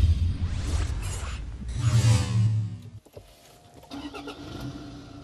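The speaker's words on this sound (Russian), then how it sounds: "двигатель здесь действительно стал существенно тише работать" A Toyota Land Cruiser Prado 2.8 D-4D diesel engine runs with a steady, low rumble that shifts and quiets partway through, heard close with no talking.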